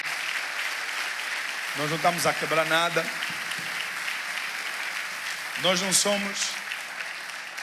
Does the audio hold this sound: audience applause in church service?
yes